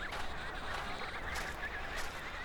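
Emperor penguin colony in Antarctica calling, a dense, continuous chorus of overlapping trumpeting and honking voices filling the scene at steady loudness with no talk.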